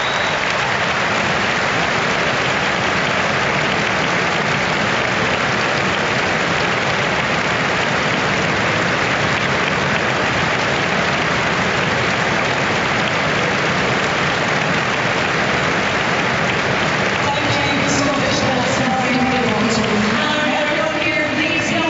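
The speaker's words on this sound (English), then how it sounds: "we're now going to have a minute's applause." A packed rugby stadium crowd at Murrayfield holds a minute's applause, a dense, sustained wash of clapping and cheering that stays loud and even throughout, fading slightly near the end as other sounds emerge.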